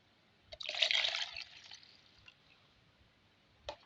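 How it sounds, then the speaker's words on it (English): Water poured into a homemade pine-based antiseptic mixture, a brief close splashing fill lasting about a second, trailing into a faint trickle, with a small knock near the end. "I'll go ahead and add water"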